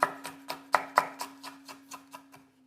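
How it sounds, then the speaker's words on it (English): A knife chops red chili steadily on a cutting board, about a dozen sharp, evenly spaced strikes close by, with a faint steady hum behind. "So we'll chop that."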